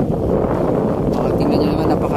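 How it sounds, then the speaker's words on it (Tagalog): Strong wind buffets the microphone at the Manila Bay shoreline, a loud constant low rumble with a person talking over it. "napakalakas na ng hangin"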